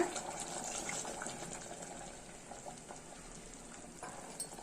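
A cup of water is poured into mutton masala, giving a soft, continuous splash and gush that fades slightly over a few seconds, faint and alone.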